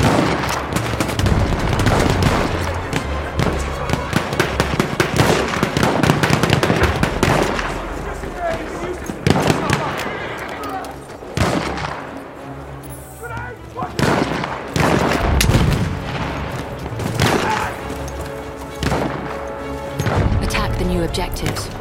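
Enemy artillery barrage in Battlefield 1: dense, continuous booms and crackling explosions, some near and loud, keep pounding over sustained gunfire for the whole stretch, with a few brief lulls.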